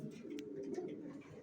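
Racing pigeons, a young male and female pair, coo steadily in a low throbbing drone throughout, close and continuous with faint chirps above.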